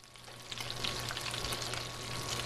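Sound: trout frying skin-side in browned butter

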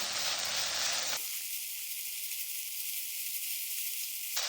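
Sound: aged kimchi stir-frying in a pan over medium-high heat

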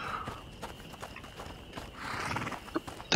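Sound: horses in the video game A Plague Tale: Innocence

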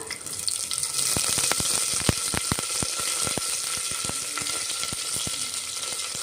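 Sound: garlic and curry leaves frying in a pan

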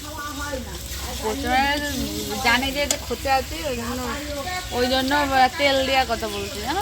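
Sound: food cooking over a wood fire

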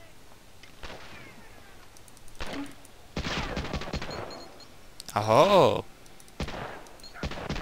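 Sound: gunfire in Medal of Honor: Allied Assault video game

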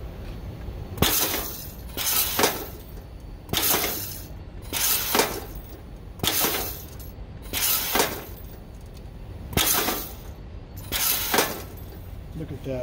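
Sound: Edward Segal 3PGW automatic grommet machine setting grommets

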